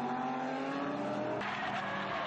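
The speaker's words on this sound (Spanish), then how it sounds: "preparados para la carrera, enciendan sus motores en sus marcas, listos, ¡fuera!" Animated race cars roar off at the start of a race, engines revving hard with tires squealing, a loud continuous rush throughout with a sharper surge of acceleration partway through.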